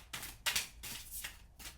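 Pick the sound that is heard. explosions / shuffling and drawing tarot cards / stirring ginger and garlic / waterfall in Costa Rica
shuffling and drawing tarot cards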